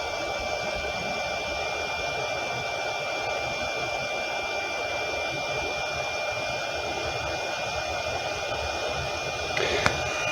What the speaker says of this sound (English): the inverter essentially has a protection function, which is pretty audible